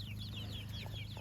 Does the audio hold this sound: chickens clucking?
yes